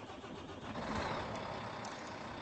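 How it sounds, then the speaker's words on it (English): A truck engine starts and settles into a low rumbling run at a moderate distance, with a broad steady roar and no voices. "And now we're ready to start the engine."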